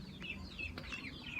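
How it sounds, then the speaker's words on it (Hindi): Chicks and hens cluck and cheep indoors inside a room, with a few short high calls repeating over steady low background noise. "चूज़े जो है ना उन्होंने अंदर कमरे में शोर डाला हुआ है"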